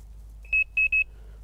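Electronic bite alarm on a carp fishing rod at night, sounding three short sharp beeps in quick succession, the last two nearly back to back, over a quiet low hum.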